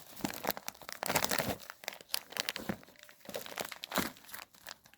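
A chelated iron fertilizer package being opened: plastic packaging crinkles and tears in dense, irregular bursts, loud and close, with no talking.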